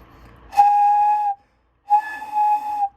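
Two sustained flute tones, each about a second long, separated by a short pause, steady and breathy, close with no other sounds.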